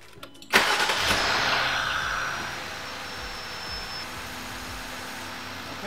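Jeep Pentastar 3.6 engine cranking briefly and catching with a sharp rise, then settling into a steady idle that continues to the end.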